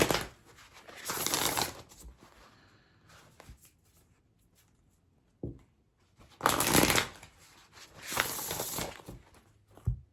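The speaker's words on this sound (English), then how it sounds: "I'm gonna pull an oracle card first from the Earth and Bone Oracle." Oracle cards from the Earth and Bone Oracle deck being shuffled by hand, several soft riffling bursts close by with quiet pauses between them and no talk.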